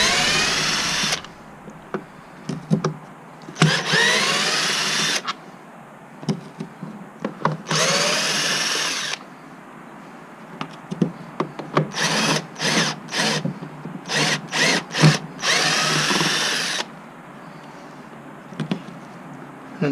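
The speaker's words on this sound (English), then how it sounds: "Unscrewing that until I can feel it disconnecting from the lower piece" A handheld power drill backs screws out while a sensor is being replaced, whirring in short, close bursts of a few seconds each, separated by quiet pauses, with quick rapid pulses in the middle stretch.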